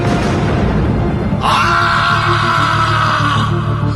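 A man screams in fear aboard a moving local train, a sudden loud, sustained cry cutting in about midway over the constant rumble of the carriage and lingering to the end.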